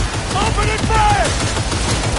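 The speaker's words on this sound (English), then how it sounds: "Opening fire!" Sustained gunfire in a Cyberpunk 2077 firefight, loud overlapping bursts and rattling shots forming a continuous barrage, with faint shouted voices mixed in.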